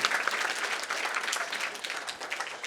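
Loud, dense audience applause at a public event, steady clapping from many hands filling the whole stretch, close and continuous without pause.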